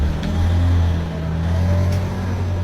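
Motorbike engine idling and revving nearby, a steady low droning hum that swells slightly and settles, continuous without voices over it.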